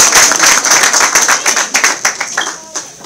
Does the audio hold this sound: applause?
yes